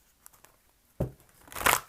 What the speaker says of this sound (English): I'm going to shuffle now some angel cards